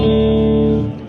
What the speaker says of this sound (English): So this is an AC30 type sound.